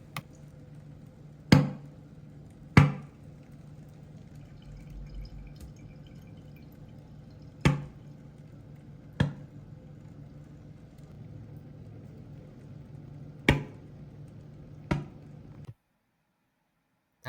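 Small sharp pops from hydrogen bubbles floating in soapy water as they ignite, about seven brief cracks spaced a second or two apart over a quiet background, each fading quickly.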